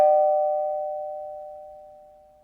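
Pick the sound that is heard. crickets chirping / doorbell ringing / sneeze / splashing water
doorbell ringing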